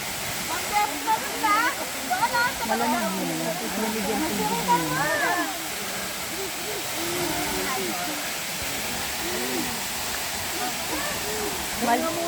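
Kabigan Falls in Pagudpud, Ilocos Norte, roars as a steady, loud rush of falling water, while people nearby talk and call out over it.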